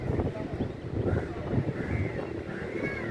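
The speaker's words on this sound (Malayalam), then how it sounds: "ഭയങ്കര കാറ്റ് ഇവിടെ ഈ കടലിൽ" Strong wind at Shankumugham Beach, Trivandrum, rumbles and buffets against the microphone in low gusts, with a faint voice partly buried beneath the roar.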